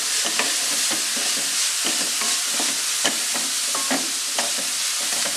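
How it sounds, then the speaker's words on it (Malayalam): Onions sauté in a pan for jackfruit cutlets, a loud, continuous sizzle broken by repeated scraping stirring strokes across the whole stretch. "ഉള്ളിയൊക്കെ നന്നായിട്ടൊന്ന് വഴന്ന് വരണം. അതുവരെ നമുക്ക് വഴറ്റി കൊടുക്കാം."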